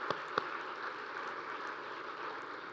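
Applause rises from the audience at a Gold Star Family honor evening, a soft, distant and even patter of many hands, with a couple of sharper claps standing out near the start.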